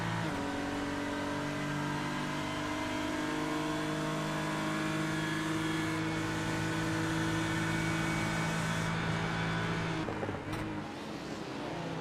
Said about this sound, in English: You heard the Lamborghini get out of the throttle a little bit earlier than the BMW.